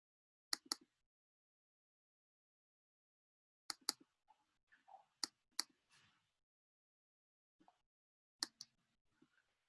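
A computer mouse clicked to advance a presentation during an online class, with a few sharp, quiet clicks spaced apart, some in quick pairs, over near silence.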